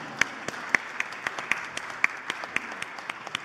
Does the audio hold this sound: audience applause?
yes